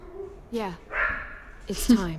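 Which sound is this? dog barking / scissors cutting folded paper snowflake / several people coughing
dog barking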